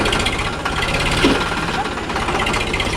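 A village tractor engine reversing to load sacks, a loud, steady, throbbing diesel chug that runs without a break throughout.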